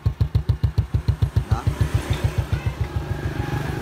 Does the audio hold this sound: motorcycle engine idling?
yes